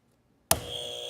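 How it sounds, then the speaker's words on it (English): A single harsh buzzer sound effect cuts in abruptly after half a second of silence and holds steady and loud to the end. "can I get the buzzer?"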